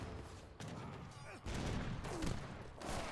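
Cannon blasts and gunfire crackle through a strategy game battle where falconets and hussars attack heavy cannons, with repeated loud bursts over a steady din and a commentator talking underneath.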